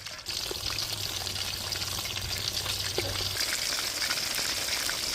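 Chicken leg pieces for a KFC-style fry sizzle in hot oil, a steady dense crackle that starts abruptly and holds loud and close throughout, with a faint low hum underneath.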